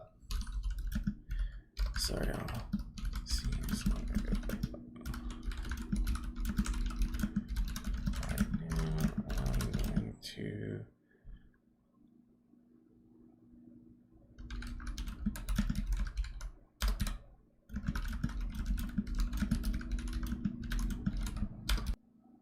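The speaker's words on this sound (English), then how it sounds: "I'm gonna type this out also." Rapid, loud typing on a computer keyboard fills the clip in two long bursts, close and clattery, separated by a few seconds of near silence, with faint clicking and no clear speech.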